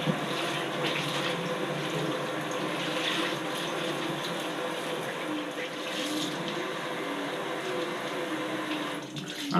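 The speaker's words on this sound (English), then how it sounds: "under the cold water" Cold water runs steadily from a tap into a sink, a continuous hiss and splash at close range with no break until a brief knock at the very end.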